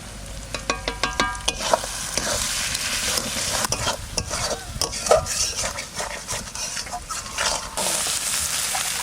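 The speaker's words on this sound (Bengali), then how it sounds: "মশলা কষানো হয়ে গেছে" Spices with turmeric, salt and Kashmiri chili powder are stir-fried with whole onions for a goat curry. A sizzle hisses steadily while repeated spatula scrapes and knocks against the pan come in quick, uneven bursts, close and loud.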